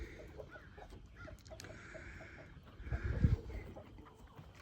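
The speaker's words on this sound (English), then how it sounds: "2 turkeys." Several soft clucks and calls from nearby turkeys over a low steady rumble on a farm, with a louder burst of low noise near the end.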